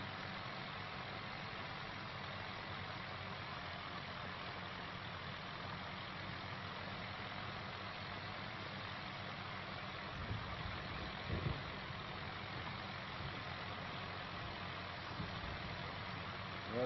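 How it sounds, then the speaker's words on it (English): A heavy tractor engine in Farming Simulator 25, pulling a plough through furrows, drones steadily at low volume, a constant muffled rumble with a few soft knocks near the end. "the tractor managing it pretty well"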